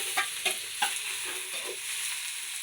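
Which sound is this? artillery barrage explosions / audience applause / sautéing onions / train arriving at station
sautéing onions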